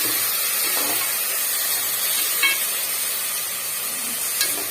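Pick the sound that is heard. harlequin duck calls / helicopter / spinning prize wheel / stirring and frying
stirring and frying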